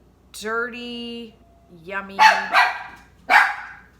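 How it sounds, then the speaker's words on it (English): A dog barks a few times nearby, with sharp separate yaps, while someone talks over them. "that's my dog."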